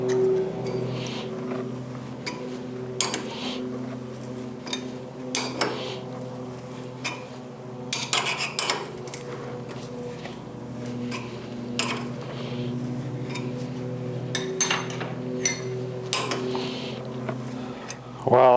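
An 11 mm wrench turns a thread tap in the handlebar of an Aprilia Tuono 1000R motorcycle, giving scattered close metallic ticks and clinks at an irregular pace over a steady low background hum.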